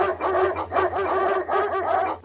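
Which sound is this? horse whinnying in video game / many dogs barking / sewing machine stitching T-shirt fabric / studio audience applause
many dogs barking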